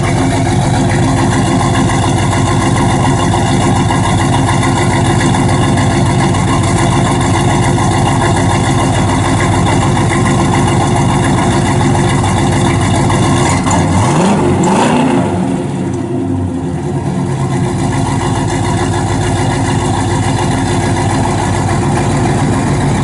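A 1972 Chevrolet Chevelle SS with a 350 V8 idles loud and steady close by, its deep rumble holding throughout with a brief blip of revs partway through.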